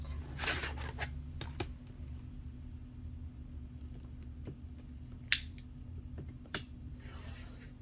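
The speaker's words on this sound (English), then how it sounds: "So we're just going to cut these out." Scissors cut out pieces of scrap vinyl, heard as a handful of sharp, close snips at irregular intervals over a low steady background hum, with no talk.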